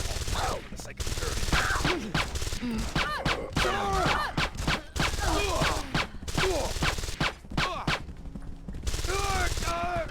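Rapid bursts of gunfire from the video game Deus Ex: Invisible War crackle densely and loudly throughout, overlapping with game character voices.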